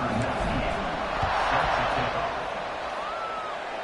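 A stadium crowd roars steadily at kickoff in an NCAA Football video game, a dense, continuous wash of cheering that swells midway and then eases slightly.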